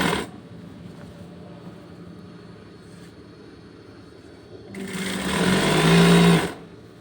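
A sewing machine stitches the side seams of a girl's school dress, a faint mechanical hum at first, then a loud, fast whirring burst of stitching for about two seconds before stopping.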